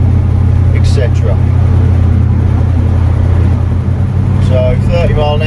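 A 1974 Cadillac Superior Hearse cruises along with its engine giving a steady low rumble and hum, while voices talk over the drone inside the car.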